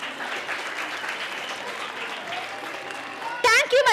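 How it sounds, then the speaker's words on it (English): At a school annual day, an audience gives the performers a sustained round of applause, a dense, even clatter of many hands that carries on and on, ending as a voice starts speaking. "I request everyone to give the performers a big round of applause"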